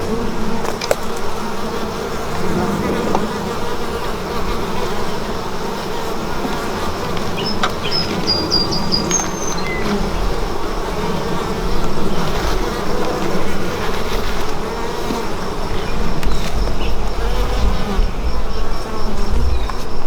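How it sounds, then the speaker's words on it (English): Honey bees buzzing around an open hive during an inspection, a dense, continuous drone of many wings close by, with occasional individual bees passing near and faint background rumble. "Looks like fewer bees too."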